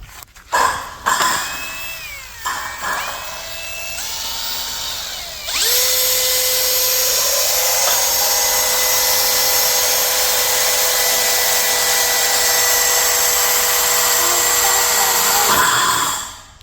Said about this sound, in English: This is a little drill he's got.